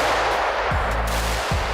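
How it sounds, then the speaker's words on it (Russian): A real firearm is fired on a shooting range, giving two sharp, heavy bangs roughly 0.8 seconds apart against a constant loud background. "чтобы не забывали звук выстрела"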